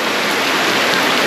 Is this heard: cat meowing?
no